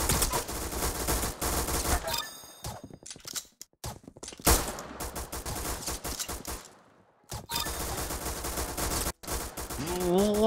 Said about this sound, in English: Ooh, the grease gun?